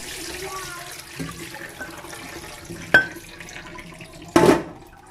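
Glass noodles are rinsed in water for a keto noodle salad: running, splashing water throughout, broken by a couple of sharp knocks of a container.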